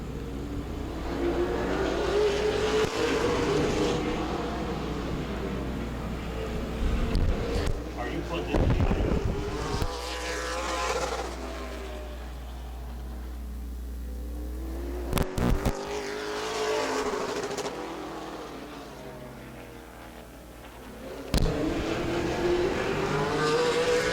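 Race cars lap a track under evening lights, their engines swelling and fading as each one passes. Wind buffets the microphone and an announcer's voice runs over the engine noise.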